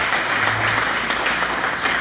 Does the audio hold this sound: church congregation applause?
yes